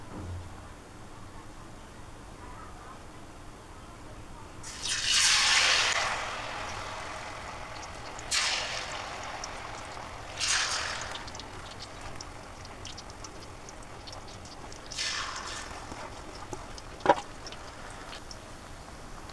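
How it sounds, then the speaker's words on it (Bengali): Cabbage papri tinted with food colouring fries in hot oil in a home kitchen, giving several separate bursts of sizzling hiss that fade between pieces against a quiet background. "এটা পাপড়ি আমি ভেজে নেব"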